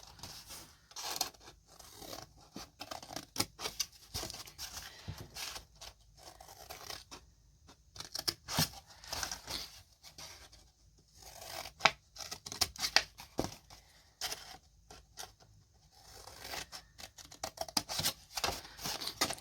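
Scissors snipping through a paper plate, a quiet run of crisp, irregular cuts and crunches close by, with short pauses between strokes.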